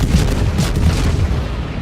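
Warship naval guns firing in a naval video game, heavy deep booms and rumbling blasts following close together, loud and near throughout the short burst.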